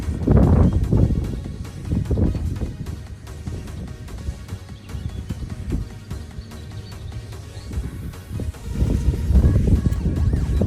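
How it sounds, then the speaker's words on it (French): Wind blows steadily outdoors at a wind farm in Brittany in low rumbling gusts, buffeting the microphone, strongest at the start and again near the end. "le vent commence à venir"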